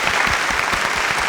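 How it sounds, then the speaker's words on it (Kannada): A loud, dense burst of audience applause fills a Karnataka television singing-contest stage, steady and continuous throughout with no voices over it. "ಅವ್ರಿಗೊಂದು ಜೋರ್ ಚಪ್ಪಾಳೆ."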